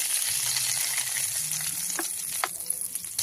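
Oil left over from frying potatoes for a mutton curry sizzles with a steady close hiss, broken by a couple of sharp stirring clicks near the end.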